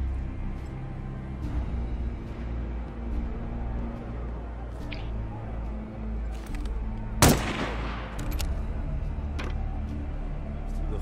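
In the video game Assassin's Creed Chronicles, a single sharp gunshot cracks out to shoot out a light. It stands loud over a low rumbling ambient game backdrop, with a few faint clicks before and after.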